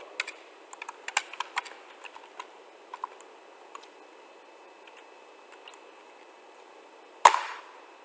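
Keys clicking on a computer keyboard in short, quiet, scattered bursts in a still room, ending with one sharper louder keystroke.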